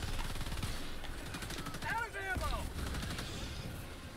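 Sustained automatic gunfire from a Helldivers 2 battle, a steady loud rattle of rapid shots with a brief whine-like tone partway through and a voice shouting over it.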